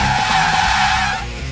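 Car tires skidding and squealing at a custom car show, Two Guys Garage at the KOI Cavalcade of Customs, a steady loud screech with engine rumble beneath for the whole moment.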